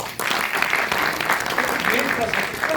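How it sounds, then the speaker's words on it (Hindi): Loud applause from a crowd at an evening celebration meeting in Jaipur, dense steady clapping with scattered voices mixed in, lasting the whole stretch. "एक बार जोरदार तालियां।"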